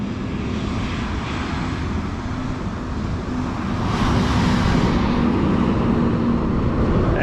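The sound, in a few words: heavy truck traffic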